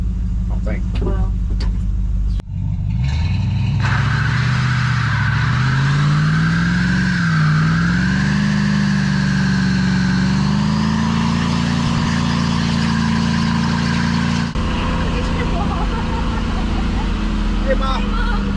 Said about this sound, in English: This engine is so weak that the shifter might not even put it in.